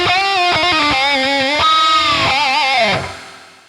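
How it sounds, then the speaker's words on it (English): Electric guitar played through a shimmer reverb on a Valeton GP200 LT multi-effects unit: a quick run of plucked notes gives way to sustained, wavering chords with bright, octave-up shimmering tails that fade out alone at the end. "Let's try this sweet space reverb. I prefer the shimmer."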